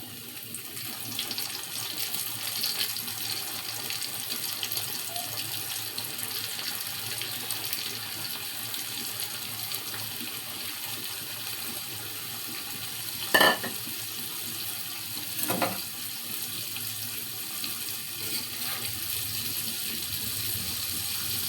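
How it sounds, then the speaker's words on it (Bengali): Crispy chicken frying in hot oil, a steady broad hiss and crackle lasting throughout, with a couple of brief louder pops midway, no talking. "তো এখন আমি তেলে ছাড়বো। এরকম হয়েছে, এখন আমি চিকেনটা দিয়ে দিব।"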